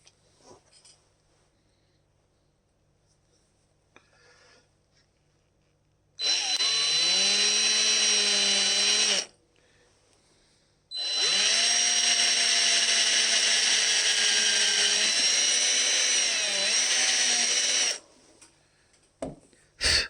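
A power drill whirs through a wooden Telecaster-style guitar body in two bursts, a short one and then a longer steady run, loud and close with quiet pauses between.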